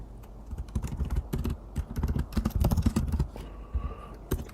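Rapid, uneven clatter of keys on a computer keyboard during a coding session, close and crisp with bursts and short pauses, the rhythm slowing near the end.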